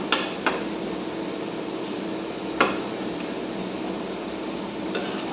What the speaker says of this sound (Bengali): এবার আমটাকে একটু খুন্তি দিয়ে আমি এরকম একটু ঘেটে দেব।